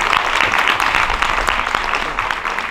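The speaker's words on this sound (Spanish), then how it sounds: "Así que un aplauso para ellos también." An audience at an outdoor comedy night during the San Antonio town festival in Telde applauds, a loud, dense burst of many hands clapping that holds steady and then tapers gently.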